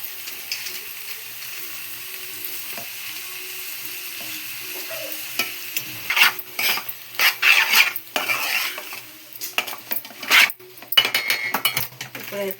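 Egg Maggi noodles stirred in a pan, starting with a quiet sizzle before loud, rapid scraping and clattering bursts of the utensil against the pan in the second half.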